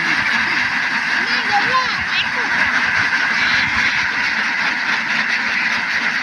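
A dense chorus of many ducks quacking constantly, loud and close, with a steady noisy background throughout.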